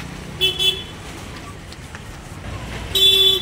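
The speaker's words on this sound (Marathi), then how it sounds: "त्या बघा त्या गाड्या" Road traffic rumbles past with two short car horn toots, one near the start and a longer one toward the end, over a steady background of passing vehicles and faint voices.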